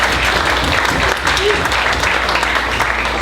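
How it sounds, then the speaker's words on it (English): Dense audience applause for a talent show performer, loud and sustained throughout with no pauses. "a big round of applause for Anu"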